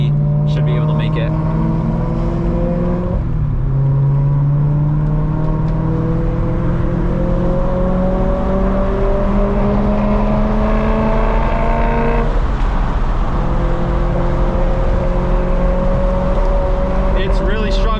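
A struggling, faulty BMW M3 engine accelerates on the highway, a loud continuous drone whose pitch climbs steadily and then drops back before rising again, heard from inside the car, with someone talking at points.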